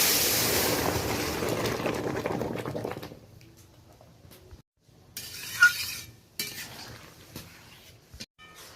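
Lentil dal poured into hot tempering with dried red chillies for a sour mango dal: a loud rushing hiss that cuts off abruptly, then quieter clinks and a short splashy burst.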